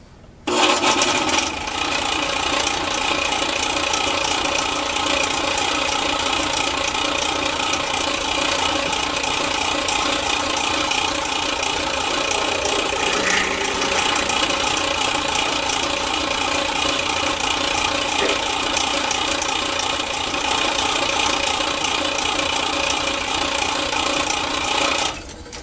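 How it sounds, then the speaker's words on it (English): A spade bit extension being bored with a drill, a steady loud grinding and whirring that runs unbroken for about 25 seconds with no talk over it. "Okay, we're ready to drill."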